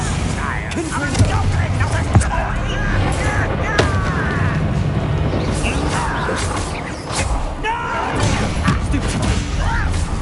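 Confringo blasting spell in Hogwarts Legacy combat, several booming crashes and thuds going off amid whooshing spell effects and a busy battle din, with voices shouting over the clamor.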